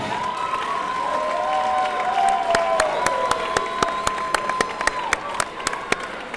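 A crowd at a cage fighting event applauds the fighters after a decision, with steady clapping and cheering that has several loud individual claps near the end, under a sustained whistle-like tone.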